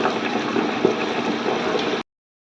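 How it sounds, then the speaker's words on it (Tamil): An electric wet grinder works soaked urad dal and fenugreek seeds with water, making a steady churning, whirring drone that runs evenly for about two seconds and then cuts off abruptly. "கிரைண்டரை ஆன் பண்ணிக்கலாம்."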